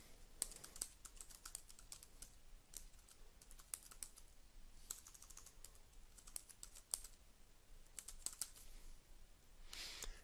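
Typing on a computer keyboard to enter a name into a login screen: steady bursts of light key clicks with short pauses, close and fairly quiet, with no voices.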